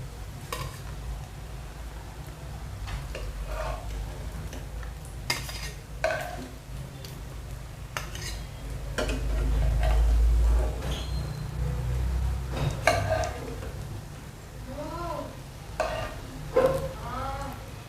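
Bread and potato snacks frying in hot oil give a steady bubbling sizzle, broken by scraping stirs and clinks of a utensil against the pan, with a voice speaking over it.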